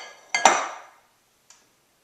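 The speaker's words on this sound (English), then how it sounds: "Now I'm going to start putting all of that into 1 pound of ground turkey." Garlic, an egg and paprika are added to a pound of ground turkey for cheesy meatballs. Two sharp metallic clinks sound close together, like a utensil striking a bowl, followed by a soft ringing decay and one faint tap.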